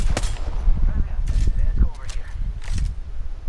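Gunfire in the video game Apex Legends: a few scattered sharp shots ring out over a steady rumble of movement and background noise, while a person talks throughout.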